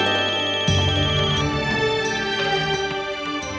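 A telephone ringtone repeats in steady electronic bursts on an unanswered call, loud and close, with no voices over it.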